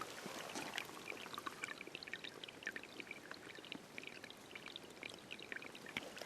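A small stream flows on a rural property as snow melts, close, light trickling and gurgling with a continuous wet patter and no voices over it.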